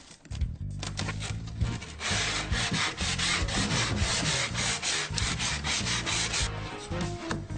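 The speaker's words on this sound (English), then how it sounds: "ready for sanding" Rhythmic sanding of wood, loud and close, with repeated back-and-forth abrasive strokes that pause briefly before resuming.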